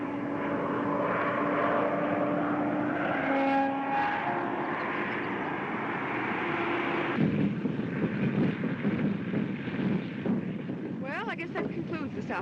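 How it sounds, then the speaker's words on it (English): A stunt airplane flying overhead during an air show drones steadily with a rising and falling engine tone, moderately loud, with wind noise and faint voices late on. "That boy sure can handle a plane."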